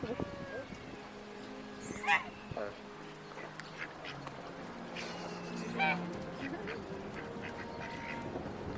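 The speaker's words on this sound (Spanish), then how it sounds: "Gansos, patos." Ducks and geese at a city-park lake give two loud, distinct honking quacks a few seconds apart, over background chatter and people talking nearby.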